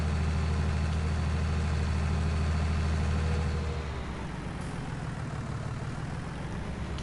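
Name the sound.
Fendt tractor engine driving in Farming Simulator 19 video game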